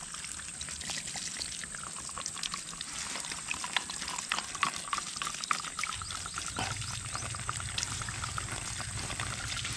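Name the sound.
water gushing from DIY deep well pipe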